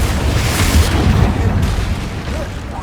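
A fiery Confringo explosion spell from Hogwarts Legacy booms out as a deep, rumbling blast that fills the low end, holding steady for a few seconds before slowly easing off, with a faint voice underneath.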